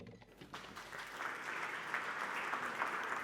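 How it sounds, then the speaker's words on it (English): An audience at a talk on the tech skills shortage claps to welcome a speaker, a soft, distant wave of many hands that swells slightly and then holds steady, with no talking. "we've just given her a round of applause"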